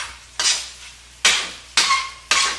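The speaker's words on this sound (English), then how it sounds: "you're going to fry your fried rice probably for about 3 or 4 minutes" Chinese-style egg fried rice stir-frying in a hot pan: four scraping, sizzling bursts as a utensil pushes the food around, over a faint steady hiss.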